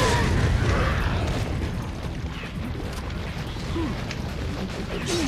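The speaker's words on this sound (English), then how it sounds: "I'm gonna use a grenade here because enemies!" A grenade blast in Resident Evil 4 Mercenaries on the Village stage, a heavy booming roar at the start that rumbles on as loud, dense in-game noise with scattered mechanical clatter and no voices.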